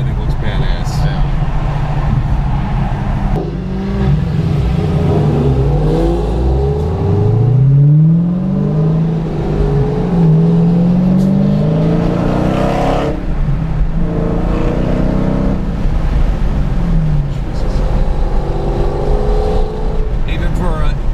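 A stock 700-horsepower Hellcat car accelerates hard, its engine note rising and falling through several revs over about twenty seconds, loud and close, with people talking over it.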